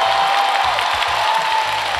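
A pop concert audience at the Hong Kong Coliseum claps continuously, a dense, loud wash of applause filling the whole moment, with low musical thumps underneath.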